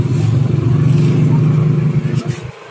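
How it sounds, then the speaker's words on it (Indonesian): An old Honda Astrea Prima motorcycle with a freshly cleaned carburetor revs loud and close with a throbbing, clattering drone, then drops away abruptly near the end. "oke bro, ini motor udah kita hidupin"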